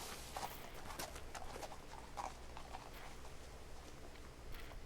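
Horse hooves clip-clopping in the video game What Remains of Edith Finch, a light irregular patter of steps heard faintly over a steady ambient bed of game sound.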